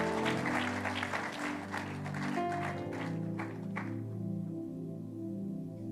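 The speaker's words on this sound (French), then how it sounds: "On acclame pour le Seigneur." A church congregation at a prophetic worship service claps together in loud, dense applause for about four seconds, then the clapping quickly thins and fades out.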